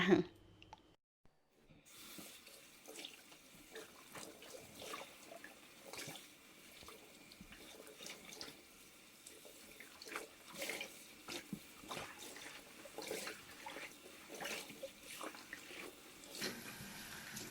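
Wild spinach is rinsed under a running tap in a sink, water splashing and pattering continuously at close range after a brief quiet start, with irregular clicks and handling noises throughout.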